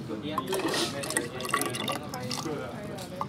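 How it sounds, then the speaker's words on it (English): Water is poured into a container during a pressure-sensor experiment, a trickling fill with faint splashes under a person talking. "we're just gonna pour the water in again"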